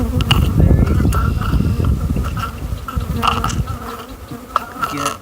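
Honeybees buzz close by in a steady, dense hum that continues throughout, loud and near, with no talk over it.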